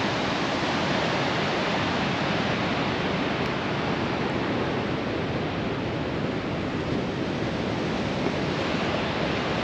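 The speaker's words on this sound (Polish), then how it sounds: "Mamy dzisiaj wzburzony ocean." Rough, churning ocean surf roars steadily and close, a dense unbroken wash of breaking waves with wind buffeting, no voices.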